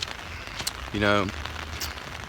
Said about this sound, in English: It's raining, obviously, so I got this umbrella.